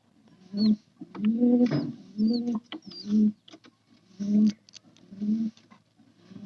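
Newly hatched pigeon chicks calling, a series of soft, close cooing and peeping bursts with short gaps between them, with faint high chirps and a light rustle underneath.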